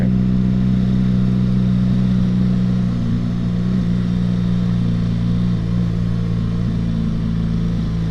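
A BMW R1200GS Rallye motorcycle ridden slowly at night on an empty road gives a steady, loud, low engine drone at an even pace, close to the listener and with no talking.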